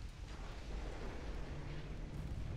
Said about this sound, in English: the torpedo launcher got destroyed. That's what exploded.